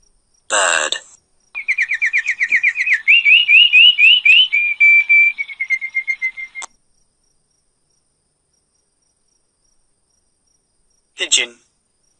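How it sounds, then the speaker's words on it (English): Bird song for a children's animal-names lesson: a bright warbling call with fast repeated trilling notes running several seconds, framed by short sharp chirps before and after, clear and close with no talking. "Bird."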